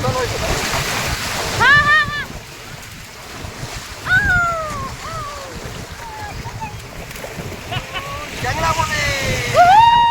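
Sea waves wash and splash on the Konkan coast with steady wind noise, while voices call out and talk over the surf throughout.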